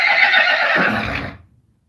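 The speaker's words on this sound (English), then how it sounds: "She can hear some of the other horses." A horse gives a single loud, close whinny inside a barn, rising and then trailing off as the call fades out after about a second and a half.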